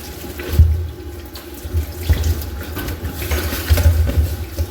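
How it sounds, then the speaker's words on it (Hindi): Water runs from a kitchen tap into a sink while mangoes are being washed, a steady splashing stream with slight surges as the flow is adjusted, close and alone with no talk. "थोड़ा खोलते हैं पानी।"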